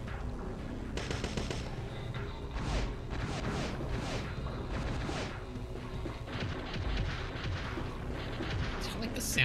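Gunfire in the survival horror game Parasite Eve II, a steady run of heavy, thick, punchy shots with dense mechanical clatter, loud and close throughout, with several sharp bursts rising near the end.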